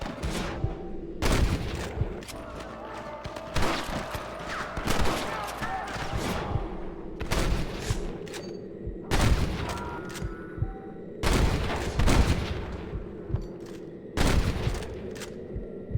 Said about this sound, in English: Look out! Rustler guard! Gun him down!